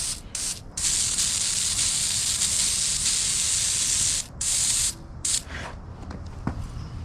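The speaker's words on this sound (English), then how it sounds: "I'll just gunk it real quick and hit it with the pressure washer" Pressure washer blasting the undercarriage of an Opel Manta A during detailing, a loud steady hissing spray in long bursts with brief pauses around four and five seconds before it tapers off near the end.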